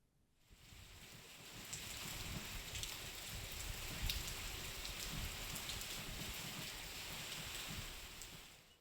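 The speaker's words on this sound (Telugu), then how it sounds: "ఉరుములు మెరుపులతో కూడిన భారీ వర్షం పడింది" Heavy rain with thunder and lightning pours down steadily, a dense hiss of drops that swells after a quiet start and holds loud throughout.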